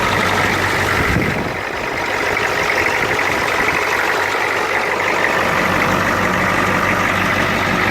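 A 1983 Ford 6.9 diesel engine idles loudly and steadily right after a cold start, giving a rough, constant clatter with a brief dip in level near the start.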